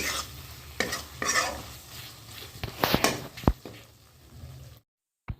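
Finely chopped tomato frying in a pan, with a busy sizzle and repeated scraping stirs that build and fade, then a sudden drop to silence broken by one last brief clank.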